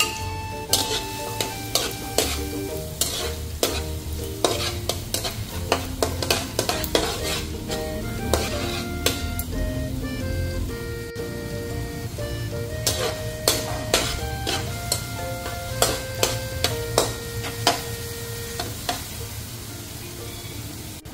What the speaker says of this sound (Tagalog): Mainit na yung mantika. Ito na itong sibuyas at bawang.